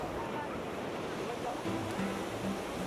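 Ocean waves crash on the shore at Zihuatanejo, Mexico. There is a steady, close roar of surf with wind buffeting the microphone and a slightly louder surge near the end.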